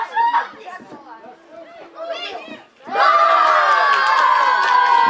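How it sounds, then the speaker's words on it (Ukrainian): Football fans at a parallel match in a youth tournament, a loud sustained crowd of shouting voices that bursts in after a commentator's speech and holds to the end. "це кричать болівальники в паралельному матчі, не той, який ми транслюємо"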